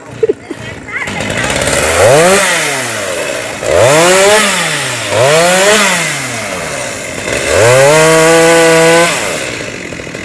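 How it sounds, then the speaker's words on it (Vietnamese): A chainsaw cutting up a fallen mango tree revs up and down in four long, loud surges, its pitch rising and falling each time, heard close. "Thì cưa xả củi"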